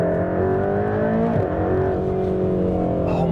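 A loud sports car engine drones steadily, its pitch dipping sharply once partway through as it downshifts, then settling back into a sustained rumble.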